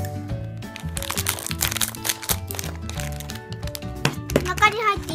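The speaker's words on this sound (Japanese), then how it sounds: "ではハサミで開けます" Scissors cut open a Kracie DIY hamburger candy kit package, giving sharp crackling and crinkling of plastic wrapping in quick irregular bursts, close to the microphone and over a tonal background.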